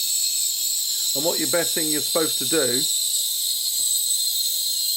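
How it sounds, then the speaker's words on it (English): Steam hisses steadily from the steam wand of a Sage Dual Boiler espresso machine, a continuous bright high hiss running through the whole stretch, with someone speaking briefly over it partway through. "get the steam going"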